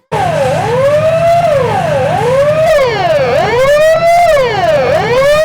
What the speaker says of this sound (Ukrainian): Щотижня проводять у підрозділі навчальні тривоги.